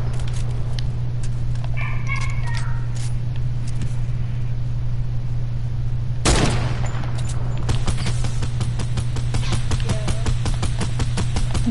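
Gunfire in a PS4 free-for-all shooter game: a sharp blast near the middle, then a rapid run of repeated shots in the second half over a steady low game hum.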